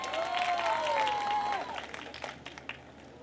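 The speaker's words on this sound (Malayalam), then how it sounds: "നല്ലൊരു കൈയടി കൊടുത്തേ." An audience at a film promotion event claps in scattered, moderately distant applause while a voice briefly speaks over it, then the claps thin out and fade.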